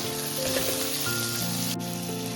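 Onion, ginger, garlic and carrot sauté in hot oil for a chicken curry, giving a steady, fairly loud sizzle and crackle with a faint stir partway through, without any voices.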